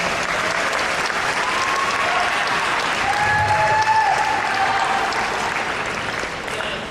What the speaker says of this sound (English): If I could get a round of applause for Chris Haga.